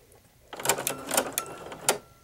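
A Baby Lock sewing machine fitted with a ruffling foot, stitching at length 2.5 in a quick close mechanical run with rhythmic clicking pulses of the toothed gathering blade.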